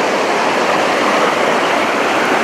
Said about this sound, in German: Schön so hier mit dem Wasserfluss